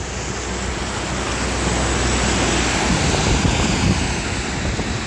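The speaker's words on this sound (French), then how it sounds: "Ah, il y a un camion" A truck passes on a snowy road during a commute, its dense broadband roar and slushy spray building to a steady loud wash without any speech.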